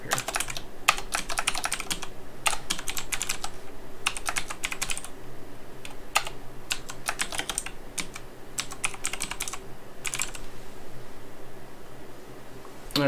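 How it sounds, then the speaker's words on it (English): Keys clatter on a computer keyboard in quick bursts with short pauses between them, close and fairly crisp over a low steady room hum. "I can type here."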